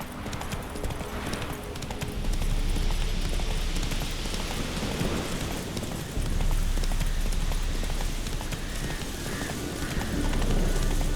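In The Witcher 3, the horse Roach gallops in a steady, rapid rhythm of hoofbeats, carried continuously over a dense game soundscape.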